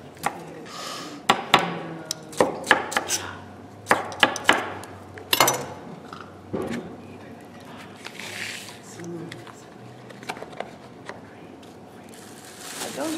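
Zucchini is chopped on a cutting board for a winter soup, with a series of sharp knife knocks in irregular bursts, close and fairly loud, while a person talks between the cuts.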